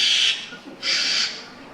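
A bird at Disney's Animal Kingdom gives two loud, harsh scream calls on cue, each lasting about a third of a second and separated by a brief pause, close and clear with no talking over them.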